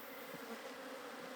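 Bees buzz around beehives at sunset, a faint, steady droning hum with a few passing individual buzzes, quiet and continuous with no voices.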